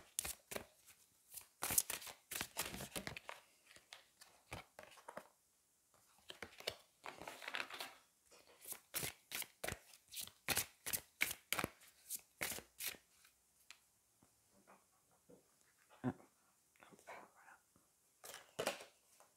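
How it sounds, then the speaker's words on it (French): Oracle cards of the Aradia deck being shuffled close up, with quick irregular bursts of riffling and card slaps that pause briefly and then resume, with no talk. "je vais prendre une carte de l'oracle d'Aradia"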